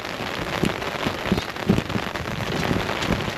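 Heavy rain pours down in a constant roar, with louder drops and splashes thudding irregularly on a nearby surface.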